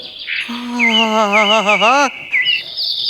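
A koel bird-song sound effect plays loud and close on a comedy stage show: rising, warbling, whistled calls over a lower sustained tone, then brief chirps after a short pause.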